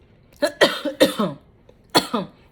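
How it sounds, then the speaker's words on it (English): A burst of several harsh, hacking coughs close by, a quick cluster of three or four followed after a pause by two more. "I'll be happy when this dang on cough goes away."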